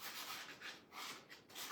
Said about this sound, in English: we're done sanding, officially